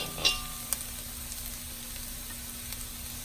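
Fried rice with Vietnamese pork sausage and Chinese sausage sizzles steadily in a hot pan, a constant close frying hiss with a couple of faint utensil clinks near the start.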